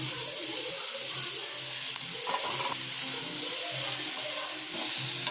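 Onion, green chili, ginger and shredded cabbage sauté in a pan with a continuous close sizzle, broken by occasional stirring clatter and a brief scrape midway, no one speaking.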